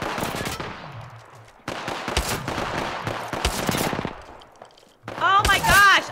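Rapid bursts of pistol fire ring out in the battle royale shooter Apex Legends, several loud volleys separated by short pauses, the last burst heaviest and densest.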